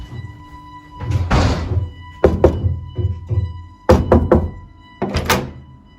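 Repeated banging on a door, as if someone is trapped and trying to get out: several heavy bursts of loud thumps and knocks in clusters, with short quiet gaps between them.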